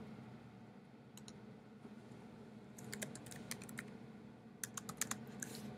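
Typing on a computer keyboard, with quiet, rapid key clicks in two short bursts over faint room hiss and no talking.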